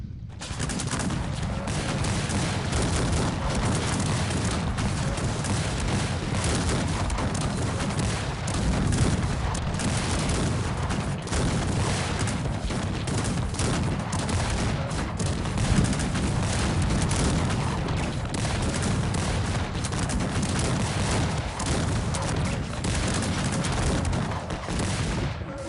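Dense, continuous battle din of cannon artillery and musket volleys from a Cossacks 3 2v2 multiplayer match, a steady loud roar of overlapping booms and gunfire throughout with no pauses.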